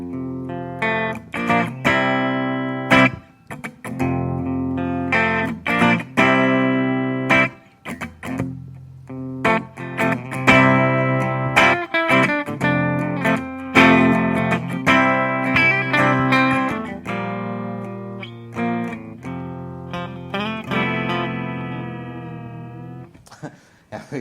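An electric guitar made from recycled skateboards, fitted with PAF humbucker pickups, plays chords and riffs with a full, warm tone. Notes ring out and sustain, with pauses between phrases.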